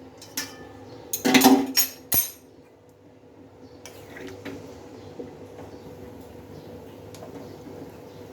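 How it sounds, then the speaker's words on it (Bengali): A metal spoon clatters and scrapes against a wok as mutton is stirred after water is added, with a burst of sharp clinks early on, then a quieter bubbling simmer. "জলটা দিয়ে একটু ভালোভাবে নেড়ে দিচ্ছি এতে করে চারি সাইডে মশলাটা ছড়িয়ে যাবে"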